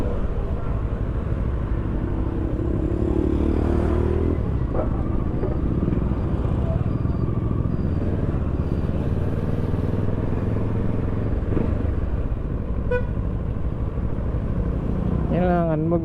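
A Kawasaki Versys 650 motorcycle engine rumbles steadily close by and revs in rising sweeps near the end, under ongoing conversation in a repair shop.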